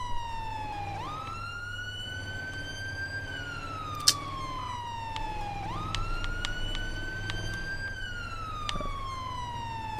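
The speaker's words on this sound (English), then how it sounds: "it's not this loud inside of the ambulance when you're responding code" Ambulance siren wailing in a video game set in San Andreas, a loud rising and falling wail repeating steadily through, heard from inside the responding vehicle with a brief click or thump midway.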